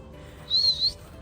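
A person whistles to call a horse, giving one short, high, rising and falling whistle of two quick parts at a moderate distance over faint outdoor background noise.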